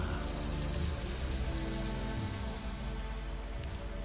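Steady rain pours down in the puzzle-platformer video game Typoman, a dense, even hiss of falling drops that holds constant from start to finish with no talk over it.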